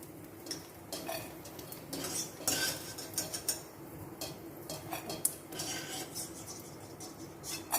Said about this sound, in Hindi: गूंद सीख गया है, अब हम इसे निकाल लेते हैं।